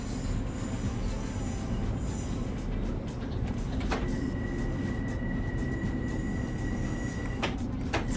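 A train in Train Sim World 4 on the Harlem route, rolling slowly and steadily along the track with a low continuous rumble, with a thin high tone that comes in midway and a couple of sharp clanks.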